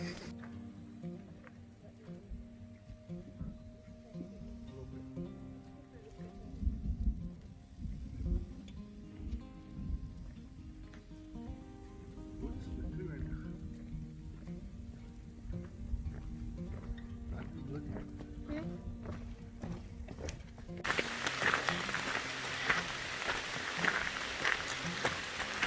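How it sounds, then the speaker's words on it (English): Rain patters steadily onto a wooded hiking trail at Merchants Millpond, a soft, broadband hiss with scattered drops that grows denser and louder toward the end, heard with people talking over it. "Can you hear it raining?"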